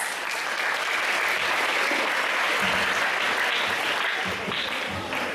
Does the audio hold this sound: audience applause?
yes